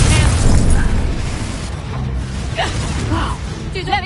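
Confringo blasting spell explosion in Hogwarts Legacy, a loud boom at the start that decays into rumbling debris and scattered magical whooshes and pops, with combat effects continuing behind.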